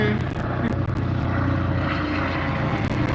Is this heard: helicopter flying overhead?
yes